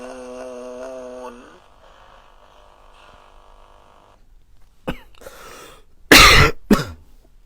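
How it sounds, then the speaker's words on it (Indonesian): After a fading musical tone and a pause, a person coughs sharply a few times nearby, the last cough loud and harsh. "Setiap koreksi diawali batuk ini."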